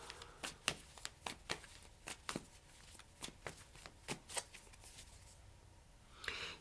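Tarot cards being shuffled and drawn for a reading, a quiet run of crisp, rapid riffs and slaps close by, evenly spaced, with a soft rustle at the end.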